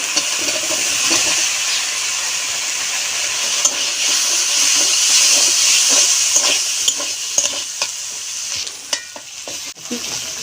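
Fish curry with potatoes and turmeric in gravy, cooking in a pan with a constant close hiss and bubbling sizzle, broken by occasional clinks and scrapes of a utensil, with no one speaking.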